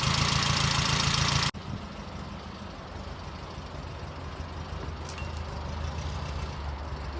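A 1970 Fiat 850 Spider with its rear-mounted engine just warming up idles steadily at close range, a low even rumble following a brief louder burst at the start.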